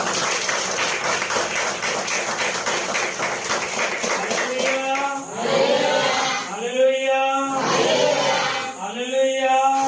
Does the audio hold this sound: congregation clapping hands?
yes